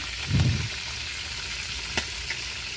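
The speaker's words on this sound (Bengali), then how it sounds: "তো একদিকে রোস্ট করতেছে, অন্যদিকে মানে ডিম ভাজতেছে" Eggs fry in a pan with a steady, even sizzle and hiss. A brief low bump near the start and a couple of faint ticks break the sound, which carries on alone with no talk.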